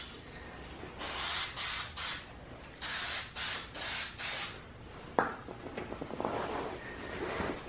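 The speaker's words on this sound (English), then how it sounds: "I simply use this Super 77 and just spray it" Super 77 spray adhesive misted onto a wood carving blank or paper pattern, several short hissing bursts close by, followed by a sharp click and light rustling handling noise.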